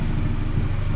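A Honda CR-Z turbo car engine idles steadily at its first start, a low continuous burble close to the microphone with no muffler yet connected, no talk over it.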